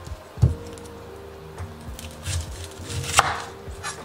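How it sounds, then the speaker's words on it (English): A knife slices the ends off onions on a cutting board, making a few close, sharp chops against the board with quiet handling in between. "We're going to slice the ends off."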